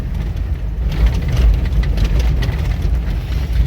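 A 1997 Lexus LX450 (FZJ80) runs at moderate speed on a dirt trail near Mount Charleston, giving a steady low engine drone and rumble with road and wind noise. No one speaks.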